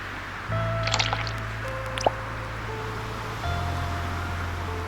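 Drinking water aboard a sailing ship in the game Sailwind gives soft wet sips and drips over a low steady hum, with a few brief tonal effects and one sharp click.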